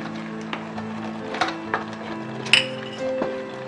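Milk being stirred in a pan for Kalakand sweet, with a spoon scraping and clinking against the metal at scattered moments over a steady low background, close by and fairly quiet, without talk.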